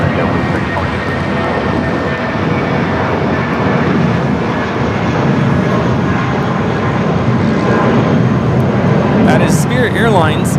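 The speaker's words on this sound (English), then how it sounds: "That is Spirit Airlines 1641 taking off to Las Vegas on the A320." A Spirit Airlines Airbus A320 taking off from Los Angeles International Airport, loud sustained jet engine roar building slightly toward the end, with someone speaking over the noise.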